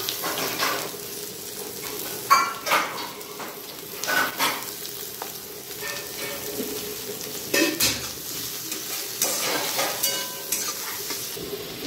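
Mushrooms and onion frying in a home kitchen pan, with a steady sizzle broken by repeated scrapes and clinks of a spatula stirring against the metal.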